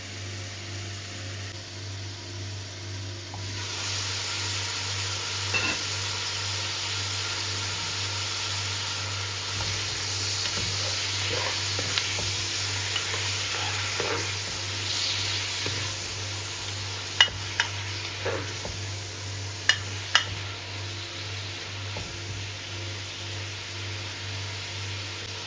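Adobo with egg browns in a pan with a soft, steady sizzle under a low constant hum, broken by a few sharp clicks and pops near the end.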